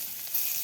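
Chopped onion tipped into hot oil for a village-style stir-fry of pointed gourd and bottle gourd peels, a brief, soft, steady hiss of frying without talk.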